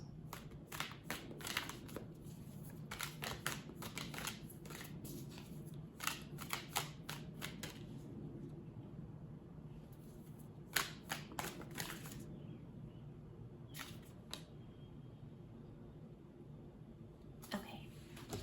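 A deck of reading cards shuffled by hand, with quick clusters of soft, papery riffles and taps repeating close by over a low steady background hum.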